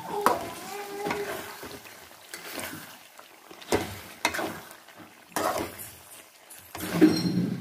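Meat and tomato being stirred in a pan, heard as intermittent scraping and stirring strokes with soft sizzling, uneven bursts spread across the clip, fairly quiet and close.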